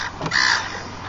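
A seagull lets out one harsh, loud squawking call close by, brief and raspy, with outdoor background noise and no talk.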